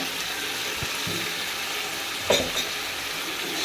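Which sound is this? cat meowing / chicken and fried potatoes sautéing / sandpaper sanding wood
chicken and fried potatoes sautéing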